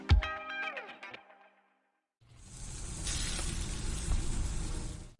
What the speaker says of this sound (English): That's the sound of sizzling, dry-aged USDA Prime Wagyu and Angus steaks from UppercutChops.com.